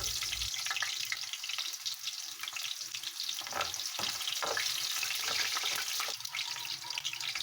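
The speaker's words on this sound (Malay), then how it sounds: "Panaskan minyak, masukkan 4 sekawan dengan sedikit bawang besar ya." Onion and four whole spices fry in hot oil for a chicken kurma, giving a soft, steady sizzle with occasional stirring clicks and scrapes.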